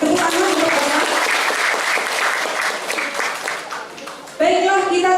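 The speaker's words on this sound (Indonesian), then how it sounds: "Tepuk tangan untuk Bapak." Audience applause at an Indonesian communication-studies seminar on going digital, a steady wash of clapping with a voice speaking over it before the clapping dies down and louder speech takes over.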